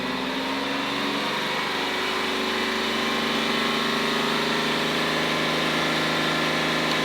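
A Ford AU car engine held at raised revs of roughly 3000 RPM, giving a steady, close, continuous drone with only slight wavering and no talking.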